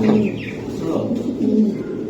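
Beauty Homer pigeons, Belgian-line youngsters, coo in soft, low, repeated rolling calls at close range, two swelling phrases with a steady hum between them.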